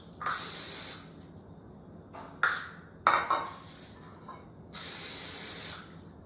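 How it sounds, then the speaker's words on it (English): Cooking spray hisses onto mini loaf pans for pumpkin bread, two long sprays with a few short puffs and a light metallic clatter of pans in between, close and clear. "Grease the mini loaf pans."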